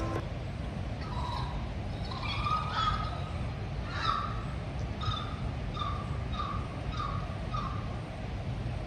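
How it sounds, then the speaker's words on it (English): Repeated chirping, hooting bird calls ring out at moderate distance over a low steady rumble of background noise in open woodland. "there's some weird birds around here."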